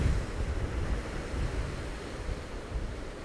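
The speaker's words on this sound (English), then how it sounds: "We're going to again watch out for one of those big waves." Big ocean waves roll in and break on the rocky shore at Ramore Head at dawn, a loud continuous surging roar with wind buffeting, no voices.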